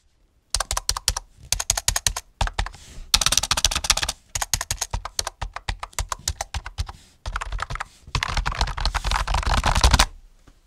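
Typing on a cheap wireless plastic membrane keyboard from Kruidvat with fairly long key travel, heard as bursts of close, clattery keystrokes in rapid runs separated by short pauses, with no talking.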